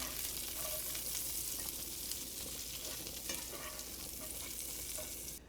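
Whole grape tomatoes fry in a hot pan with a steady, dense sizzle and occasional soft stirring, heard close and continuous throughout.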